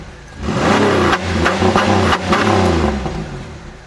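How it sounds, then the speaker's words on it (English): A drag race car's loud engine revs hard up close, rising and surging in a couple of throaty bursts before easing back to a rumbling idle. "Shut that race car off, it's too loud!"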